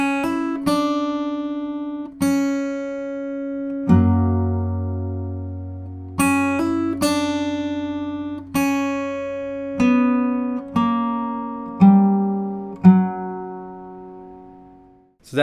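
Fingerstyle acoustic guitar slowly plays the intro of the Howl's Moving Castle theme: clear plucked notes in a gentle, unhurried melody over sustained bass tones, each phrase ringing out and decaying, with no voices.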